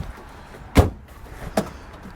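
A Triumph TR7 car door shuts with a solid, close thump, followed by a smaller latch knock moments later, with nothing else but quiet room tone around it.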